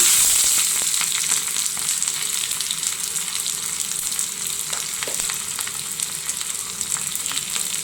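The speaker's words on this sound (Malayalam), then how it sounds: "ചുമന്നുള്ളി മുരിയട്ടെ." Shallots frying in hot oil on a home stove, a close, loud and continuous sizzle with light stirring scrapes through it, with no voices.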